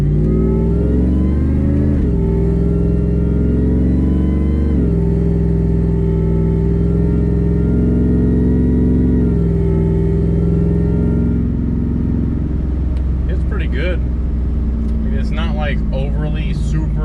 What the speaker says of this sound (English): I just let it kind of run through the gears